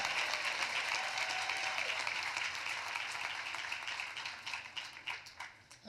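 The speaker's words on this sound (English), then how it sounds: "Give yourselves a round of applause for being here." A commencement audience at Virginia Union University bursts into sustained applause, a dense wash of clapping from a large crowd that tapers into scattered claps at the end.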